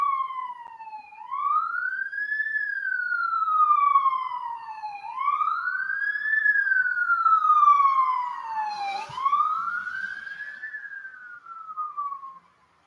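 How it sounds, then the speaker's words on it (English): Emergency sirens wail in long rising and falling sweeps, loud and fairly close, repeating three times with a brief burst of traffic noise near the end. "Can you hear the sirens?"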